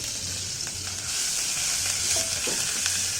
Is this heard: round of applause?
no